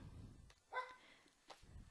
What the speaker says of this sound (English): That's my dog Shotzi saying hello